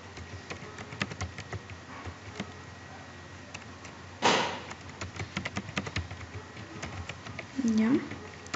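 Computer keyboard typed on while entering a password during a Windows 7 install in a virtual machine: a close, quiet, irregular run of soft key clicks with a few louder bumps and a brief voice.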